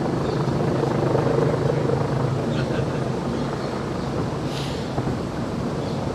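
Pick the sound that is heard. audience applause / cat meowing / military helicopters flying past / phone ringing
military helicopters flying past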